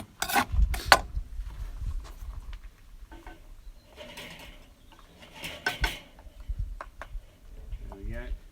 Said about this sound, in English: you'll feel it with your spoon as you're stirring it